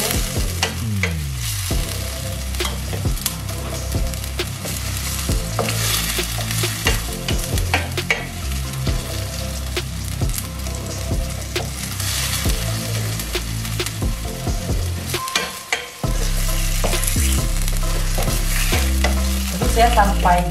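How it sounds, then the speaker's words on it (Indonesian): Lime leaves and lemongrass frying in a pan under constant stirring, with loud sizzling and repeated scraping of a utensil against the pan, close up. A brief dip near the end gives way to a heavier, steadier sizzle. "Aduk terus."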